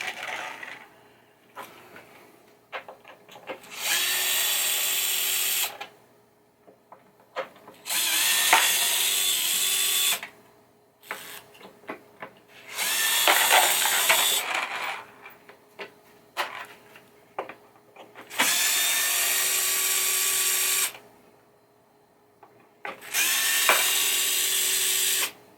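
Screws being removed one after another with a power driver during the teardown of a 1980 Williams Firepower pinball playfield, giving loud whirring bursts a few seconds long with quieter clicks and handling noises between them.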